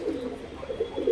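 A pigeon coos softly in a few low, rolling pulses, close by and steady against a faint background hiss, with no talking.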